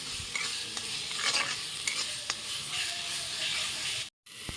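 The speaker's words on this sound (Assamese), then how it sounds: "পিঁয়াজখিনি ভাজা হৈ গ'ল, এতিয়া বিলাহীখিনি দি দিওঁ।" Chopped tomatoes drop into a pan of frying onions, setting off a steady, loud broadband sizzle with occasional stirring scrapes that continues for several seconds before a brief cutoff near the end.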